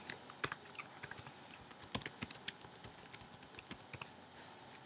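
Quiet, close clatter of fingers typing on a computer keyboard, an uneven run of quick key clicks with brief pauses and no voices.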